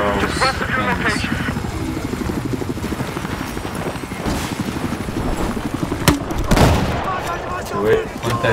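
A Battlefield 4 helicopter's rotor thumps steadily amid bursts of gunfire, with voices talking over the action.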